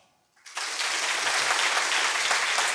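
Audience applause from a live comedy talk-show crowd in Portugal breaks out after a short quiet moment and swells into sustained, dense clapping that carries to the end.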